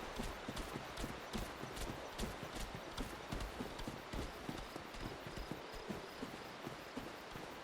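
Footsteps of someone running behind in the video game Dark Souls, fast regular thudding beats, close and distinct, continuing steadily throughout.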